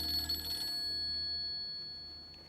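A telephone bell ringing briefly at moderate loudness, its tone fading out quickly into quiet.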